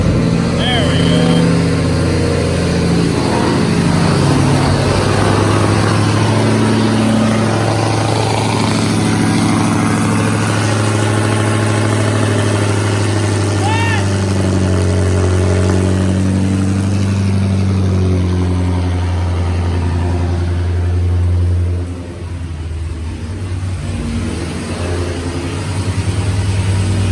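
A Dodge Charger Hellcat running on E85 fuel with a Livernois intake and pulley upgrade rumbles at a loud, steady idle close by, a deep continuous drone that dips briefly near the end, while people talk over it.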